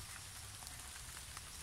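Rain falls steadily on a rural provincial copra-making site, a soft continuous hiss of drops striking surfaces, faint and even throughout with no voices.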